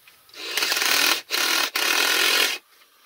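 A 12V battery drill powered from a car battery whirs loudly in two bursts with brief dips between, running steadily for about two seconds, with no one talking.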